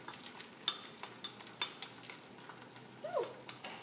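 A veggie egg-white omelet cooks in a pan with a faint, low sizzle, broken by a few sharp utensil clinks and scrapes against the pan.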